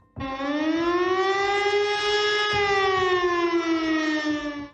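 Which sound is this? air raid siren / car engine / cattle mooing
air raid siren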